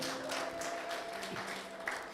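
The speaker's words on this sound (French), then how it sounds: "Minogbe, applaudissez pour vous-même." Faint, steady applause from an audience at a storytelling performance, a soft continuous patter of clapping heard from a distance.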